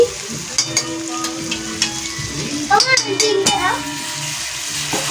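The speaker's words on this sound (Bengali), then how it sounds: "এবার আদা আর লঙ্কা বাটাটা দিয়ে দিচ্ছি" Ginger and chili paste hits hot oil with goat meat in a pan, sizzling loud and steady, with a spoon stirring and scraping against the metal and a few clinks of cookware. No one speaks.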